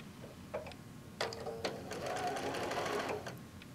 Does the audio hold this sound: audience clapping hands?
no